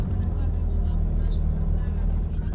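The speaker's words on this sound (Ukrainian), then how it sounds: "Їдемо через ліс. Дорога тут, звісно, ой-ой-ой, але ми їдемо." A car drives slowly along a rough, bumpy forest road, its engine a steady low rumble with the cabin droning continuously throughout.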